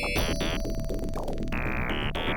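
Blooping, chiptune-style melody from the German MS-DOS Christmas game Nicolausi, with steady synthetic tones stepping between pitches over a busy, continuous beeping backing, loud and unbroken throughout.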